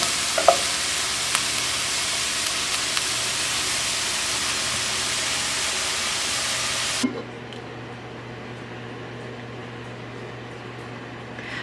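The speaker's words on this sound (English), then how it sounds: "I'll fry 1 pound of beef stew meat along with 2 garlic cloves" Beef stew meat browning with minced garlic in a pan: a steady broadband sizzle with a few small pops and stirs for about seven seconds, then dropping to a quieter, duller simmer hiss.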